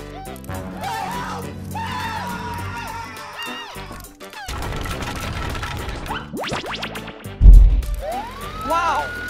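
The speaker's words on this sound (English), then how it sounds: "Wow! It's an ambulance!" Cartoon ambulance siren wailing in rising and falling sweeps over bright background music, with a loud thump near the end and a child-friendly voice speaking.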